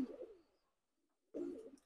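Pakistani teddy pigeon chicks give two short, soft, throaty coos close by, separated by a brief silent pause.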